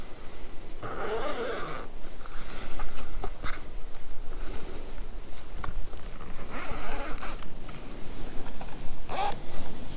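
A Hilleberg Staika tent's two-way door zipper is pulled open from the top in several quick rasping strokes, close up, with rustling fabric between the pulls.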